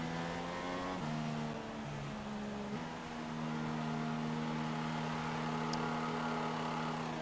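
Formula 1 race car engine in a racing video game, a steady high-pitched droning whine with shifting pitch steps as revs change, continuous and loud throughout with no talking.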